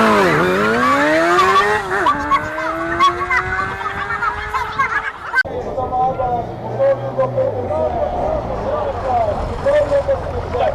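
A race car revs hard and accelerates, its rising engine whine stepping up through gears before cutting to a rougher, lower drone with voices talking nearby.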